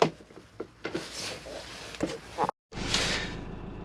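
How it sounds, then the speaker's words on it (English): Door of an Adria Compact SP Plus caravan being locked with an inside toggle and then opened by the handle: a few soft clicks and knocks, a sharp latch clack, then the door coming open, under quiet talk. "To lock the door from the inside, you simply need to just push this little toggle down, and it's locked the door."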